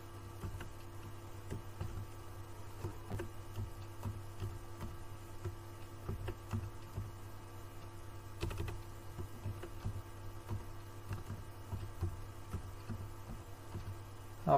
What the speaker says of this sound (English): here you can type in your name of the program